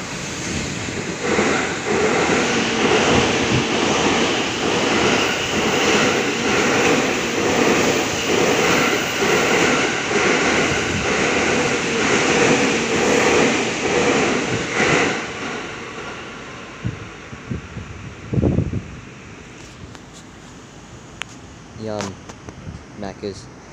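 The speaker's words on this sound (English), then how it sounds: "We have a train passing through platform 1." A train passes through platform 1 at Hodogaya station with a loud, sustained rumble and rhythmic wheel clatter that fades after about fifteen seconds, leaving quieter station ambience and a few brief tones.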